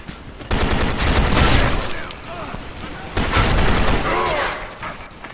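Assault rifle fire in the video game Soldier Front 2, two loud close bursts of rapid shots with brief gaps between them, and a voice talking over the shooting.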